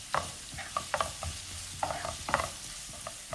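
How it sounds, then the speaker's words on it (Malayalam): Sliced onions and curry leaves fry in coconut oil, a close steady sizzle with frequent scraping strokes of a spoon stirring through the pan, no one speaking. "അതിലേക്ക് അരിഞ്ഞു വെച്ചിരിക്കുന്ന സവാള ചേർക്കാം"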